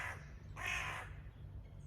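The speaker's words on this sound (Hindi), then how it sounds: "कौवा कुछ कह रहा है," One strong crow caw rings out near its middle, preceded by a fainter call at the start, with low steady background hum and no talking.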